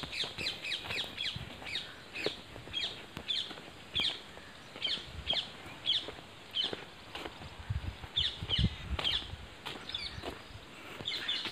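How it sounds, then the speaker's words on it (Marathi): Birds chirp and crows caw in open farm fields by a sugarcane plot being irrigated, with repeated short calls scattered through the clip over a soft background of low rumble and occasional footsteps. "पक्ष्यांचा किलबिलाट आबाळ भरपूर आहे"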